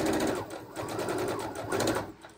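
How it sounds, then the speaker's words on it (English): Close by, a sewing machine hums steadily while stitching around a scrappy fabric heart pillow, its motor speed easing and swelling slightly in a continuous run. "we're just going to sew all the way around"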